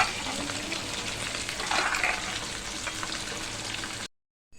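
Lentil dumplings (bori) going into a simmering vegetable and greens curry in a pan, a steady close frying hiss and sizzle with a brief louder burst in the middle, ending abruptly in silence.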